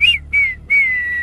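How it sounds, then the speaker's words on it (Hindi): A person whistles three short, clear, steady tones, each a little lower than the one before, with brief gaps between them and a longer held final note, close and loud. "आज आप खुद सीटी बजा रहे हैं"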